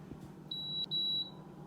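A Power XL grill's control panel gives two short, high electronic beeps in quick succession as the timer is set, clear and close over faint room hum.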